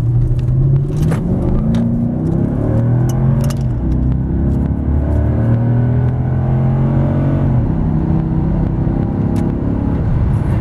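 A 2011 Dodge Charger Pursuit with a 5.7L Hemi V8 runs and drives, its engine giving a steady, loud, close rumble with rising and falling revs throughout.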